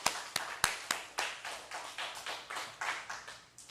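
A church congregation claps in steady unison rhythm during a Friday night worship service, sharp evenly spaced claps repeating about four times per second, fairly close and without talk.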